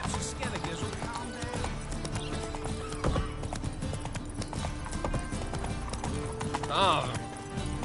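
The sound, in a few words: horse Roach's hooves in the video game The Witcher 3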